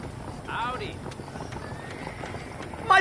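Horses trotting in a video game, a steady clip-clop of hooves running under background noise, with a brief burst of voices near the start and a louder sound at the end.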